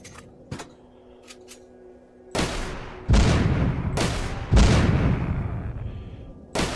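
Gunshots in the video game The Walking Zombie 2 ring out, with several sharp booming reports after a quiet stretch of small clicks, each shot loud and close with a short decaying tail.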